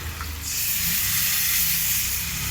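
Water poured into a hot pan of fish-head rice muri ghonto gives a loud, steady hiss and sizzle of steam that swells after a quieter start and holds evenly.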